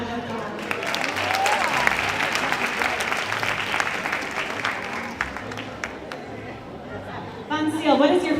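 An audience at an aesthetics clinic evening event breaks into warm applause with cheers and chatter, a dense clapping wash, followed by someone speaking over the end.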